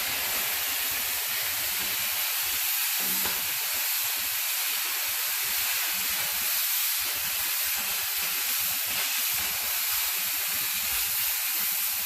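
Arc welding a new cutting edge onto a Bobcat bucket, a continuous harsh crackling hiss sustained close and loud along the seam for the whole stretch, with no talk over it.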